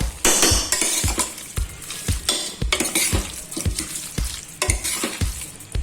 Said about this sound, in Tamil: நல்லா 10 நிமிஷம் நல்லா வதங்கட்டும்.